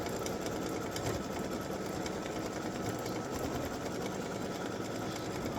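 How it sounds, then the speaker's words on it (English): An embroidery sewing machine stitching text onto a Valentine's mug rug, its needle running in a fast, steady mechanical chatter that stays close and constant throughout. "this is going to stitch the text"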